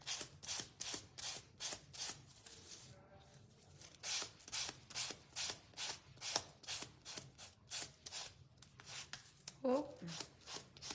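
Close, rhythmic scratchy strokes of sandpaper rubbing a small wooden gnome craft piece, repeating steadily back and forth with short pauses, and a brief voice near the end.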